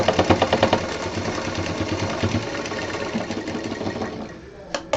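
A sewing machine stitches a belt for a handbag with a fast, close, rhythmic mechanical whirr that starts loud and slows toward the end. A voice speaks faintly beneath it.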